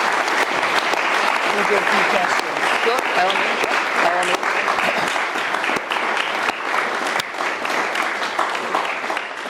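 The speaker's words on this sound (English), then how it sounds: "Give me a round of applause" A large audience at a university debating society interview applauds loudly and steadily, with dense clapping that lasts throughout. A few spoken words come through faintly over it.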